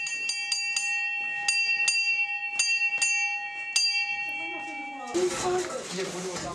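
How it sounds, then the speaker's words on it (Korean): A bell at a Himalayan monastery school in Mustang rings in a steady series of clear metallic strikes calling novice monks to lunch, then gives way to a burst of broadband noise as a voice narrates over it. "반가운 점심시간을 알리는 종소리가 울립니다."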